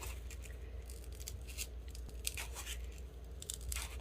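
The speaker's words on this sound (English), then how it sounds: "Just going around that sharp edge with my scissors." Scissors snipping through soft foam to round off a sharp edge, with a run of small, quiet cuts over a low steady background hum.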